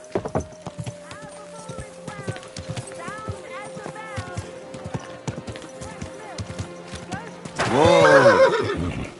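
Horse hooves clip-clop steadily through a medieval game scene in Kingdom Come Deliverance 2, over a background hum and scattered voices, and a loud, close neigh rises near the end.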